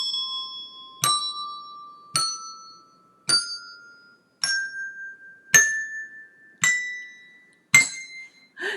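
Eight bright desk-bell dings ring out one by one at an even pace, each pitched higher than the last, climbing a scale with short ringing tails.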